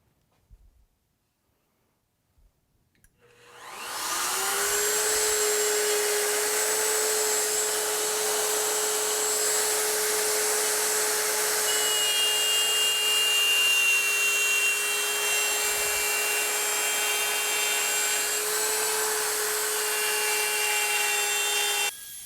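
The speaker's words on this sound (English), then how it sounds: "if you are going to use a router to cut all the way through" A router plunges and cuts a circle through a wood board for a raised dog bowl stand, starting after a short quiet lead-in as a loud, steady high-pitched whine that holds close and continuous to the end.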